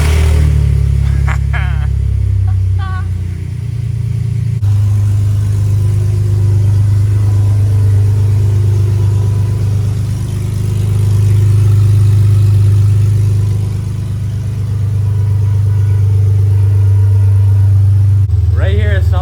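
A BMW E46 with newly installed exhaust headers and an EGR delete idles with a loud, steady, deep drone that barely changes, while brief voices are heard near the start and the end.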